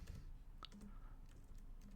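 Typing on a computer keyboard: soft, irregular key clicks spread over two seconds against a steady low background hum, with no voices.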